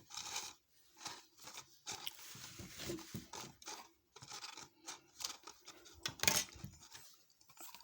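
Hand snips cut through sheet metal for a concentric reducer in a quiet run of short irregular scraping and crunching cuts, fairly faint and close.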